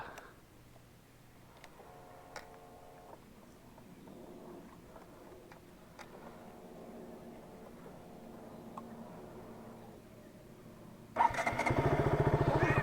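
A motorcycle that has broken down gets several cranking attempts, with repeated whirring bursts of the starter, before the engine catches and runs with a loud close rumble at the end.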